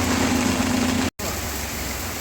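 Monsoon rain pours onto town streets in Viramgam, a steady close hiss of downpour over a low traffic rumble, broken by a brief cut near the middle.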